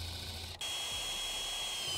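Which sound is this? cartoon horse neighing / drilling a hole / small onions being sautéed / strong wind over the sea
drilling a hole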